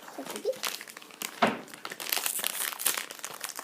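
Crinkly plastic Lalaloopsy mini toy packets rustle and crackle in quick bursts close up as they are opened, with a sharper tearing crunch midway, no voices.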